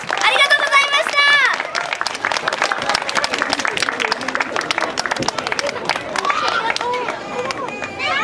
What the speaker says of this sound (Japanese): 皆さんのダンサーさんたちに大きな拍手をお届けください